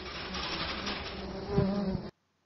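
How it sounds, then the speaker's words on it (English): Native stingless bees in North Queensland swarming around a hive under attack, a dense insect buzz close by that swells briefly near the end before cutting off abruptly. "The hive is under attack, but we don't jump yet."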